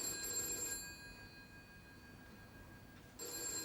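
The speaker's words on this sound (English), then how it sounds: "Your phone's ringing." An old-style telephone bell rings in two bursts separated by a pause of about two seconds, heard faintly over a low room hum.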